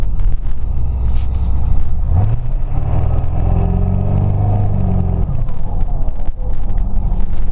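A tuned Ford Powerstroke diesel pickup truck engine roars up close, climbing in pitch through a hard acceleration for a few seconds before easing off, with constant rumble and no talking.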